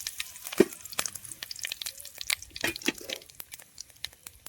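Fennel seeds and curry leaves drop into hot oil in a pan and crackle and sputter in quick irregular pops, close and moderately loud, with no voices.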